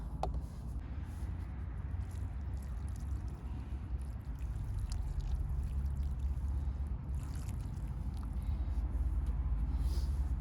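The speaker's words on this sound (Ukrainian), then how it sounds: "Після того, як ми її посадили, ми поливаємо водою із додаванням радіфарму." Water mixed with Radifarm is poured around a freshly planted peony in open ground, a continuous soft trickle and splash over a low background rumble, with no talking.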